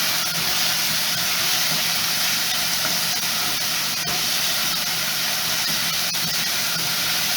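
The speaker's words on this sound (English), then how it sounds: "I'm going to add the onion, the garlic, saute this for a second or 2." Onion and garlic sautéing in a pan over medium-low heat, a steady, even sizzling hiss that holds constant throughout with no talking.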